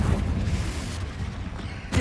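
A Confringo blasting spell goes off in Hogwarts Legacy, a deep rumbling boom that rolls on for about two seconds with a second low thump at the end, loud and close.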